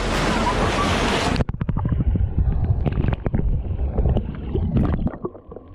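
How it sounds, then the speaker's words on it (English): Heavy water splashing from an elephant swimming in its pool at the Oregon Zoo: a roaring rush of churned water, then a run of uneven close slaps and sloshes. "Splashing and swimming at the Oregon Zoo."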